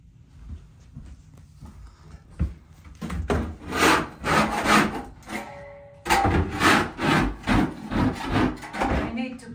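Scraping an old floor surface clean before laminate flooring goes down during a room renovation: repeated rhythmic rasping strokes, close and fairly loud, in two runs split by a brief pause.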